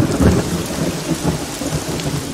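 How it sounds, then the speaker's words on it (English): Steady rain pours while deep thunder rolls and rumbles beneath it, a dense continuous storm texture with no voices. "and it was raining outside"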